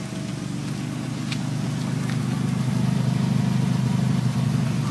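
A 1985 Oldsmobile 98 with a front-wheel-drive 3.8 V6 idles steadily after being started, giving a low, even rumble heard up close that grows slightly louder toward the end.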